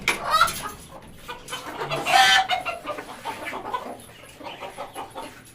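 Hens in a rooftop coop, both country and farm chickens, cluck and squawk close by. The calls are uneven and overlap, with one louder burst of fowl noise near the middle.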